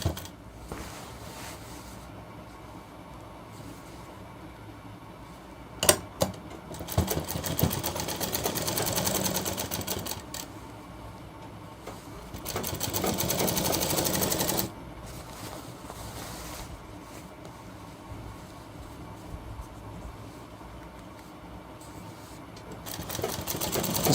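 A sewing machine stitches close to the folded bottom hem of a shirt, running in two longer bursts with a sharp clack and some handling noise between them, the motor whirring steadily over a quiet room.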